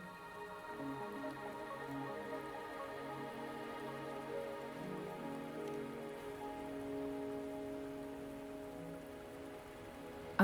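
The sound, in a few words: rain falling, from the video game Wuthering Waves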